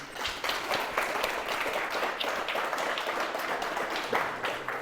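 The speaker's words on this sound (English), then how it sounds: "Let's give Eric a round of applause." An audience at a book launch for Sheffield Blitz survivors claps steadily in a sustained, even round of applause for Eric, with no voices standing out.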